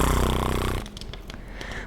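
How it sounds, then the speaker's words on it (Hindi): A man snores once, a loud, drawn-out rasping breath that fades into quiet room noise. "यह कहकर वह सो गया और जरा ही देर में खर्राटे भरने"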